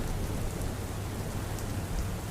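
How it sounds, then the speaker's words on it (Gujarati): Steady rain falls in Modasa, Gujarat, a dense, even hiss of drops on surfaces with no break, fairly close and continuous. "મોડાસા શહેર અને ગ્રામીણ પંથકની અંદર વરસાદ વરસ્યો."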